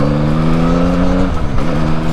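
A 2021 Yamaha MT-09 motorcycle engine revs steadily while riding, a loud close-up harmonic drone that holds level then dips and climbs again, with no talking over it.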